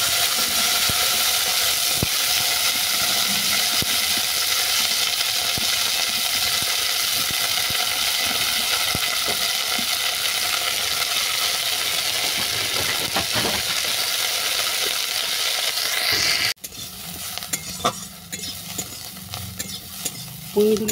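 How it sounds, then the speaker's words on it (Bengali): Pui mitli and cucumber sizzle loudly in hot mustard oil in a karai, a steady close hiss with faint stirring scrapes that drops off sharply near the end. "তেল গরম হয়ে যাওয়ার পর পুঁই মিটুলি আর শসাটাকে আমি একসঙ্গে দিই।"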